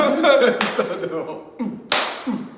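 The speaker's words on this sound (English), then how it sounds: "This clap is so dumb." A couple of sharp, loud hand claps ring out close by amid casual talk and laughter at a relaxed sit-down gathering.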